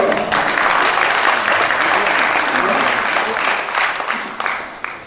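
A crowd applauding steadily, a dense wash of clapping that holds for several seconds before thinning slightly at the end.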